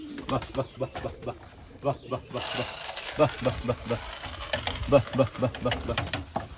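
Pigeons coo in soft repeated throaty bursts, close by, while someone talks over them almost throughout in a rough outdoor setting.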